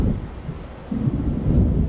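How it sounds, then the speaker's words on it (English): Low rolling thunder of an approaching storm in the video game Alan Wake, a continuous deep rumble that swells slightly halfway through, steady and fairly loud with no voices. "It seems there's a storm coming."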